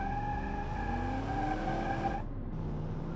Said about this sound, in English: And it can smoke the tires very easily.